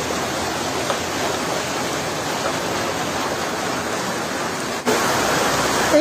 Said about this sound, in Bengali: বৃষ্টিটা কিন্তু ভালোই জোরে নেমেছে দেখতে পাচ্ছেন।